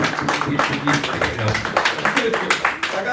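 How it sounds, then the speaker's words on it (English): Audience applause for a speaker at a talk on Islam and African tradition, dense clapping mixed with voices and cheering throughout, fairly loud and close. "Give the brother a round of applause, y'all."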